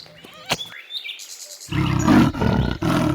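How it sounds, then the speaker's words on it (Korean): A leopard gives a loud, rasping roar that swells and holds for over a second, preceded by chirping forest birds. "leopard"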